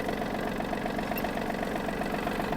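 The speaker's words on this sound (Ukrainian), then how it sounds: "свічка гаряча, вижила щеплення і трактор завівся" A Yanmar F-200 mini tractor's small diesel engine idles steadily just after starting, a close, even chugging with a regular fast knocking pulse throughout.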